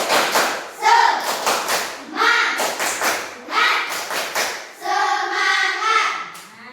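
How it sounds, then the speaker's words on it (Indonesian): Third-grade schoolchildren perform a rhythmic chant-and-clap routine in a classroom, sharp clap bursts in short patterned groups, with voices chanting along near the end. "Ayo kita tepuk semangat dulu."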